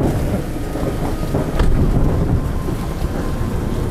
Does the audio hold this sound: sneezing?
no